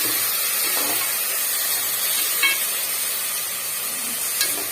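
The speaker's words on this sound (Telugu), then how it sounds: "ఇలా కలుపుకోవాలి, వేగించుకోవాలి మొత్తం." Onions and spices fry in oil in a pan for tomato rice, giving a steady close hiss and sizzle with a couple of soft stirring scrapes, and no voices.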